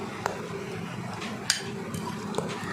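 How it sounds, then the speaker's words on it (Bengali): A fork mixing boiled potato and egg with a sprinkled-in gram flour batter in a bowl gives three light, sharp clinks against the dish over a soft, steady scraping, close by. "এই কাঁটা চামচ দিয়েই মেশাবেন বন্ধুরা, কাঁটা চামচ দিয়ে মেশালে খুব ভালো হয়।"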